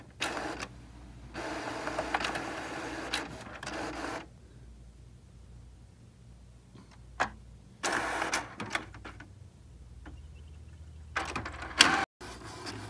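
Canon inkjet printer printing after the black cartridge ink monitor was turned off, giving bursts of mechanical whirring and carriage rattling separated by quiet pauses, close by and without talk.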